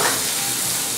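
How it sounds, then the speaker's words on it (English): Garlic sizzles and fries in a hot pan with a dense, even hiss and crackle, loud and close throughout, with no voices. "You don't want to be chopping while your garlic is burning."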